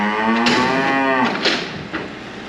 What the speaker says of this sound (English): Cows are all getting locked in.